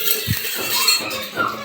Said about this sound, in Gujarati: અહીં જો ઈશુબેન વાસણ ધોવે છે,